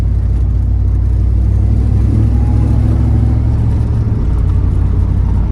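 A ZL1500 car pulls away on its first road drive, its engine droning loud and close in a steady low rumble that climbs through the 10-speed gearbox's shifts, with a deep surge near the middle.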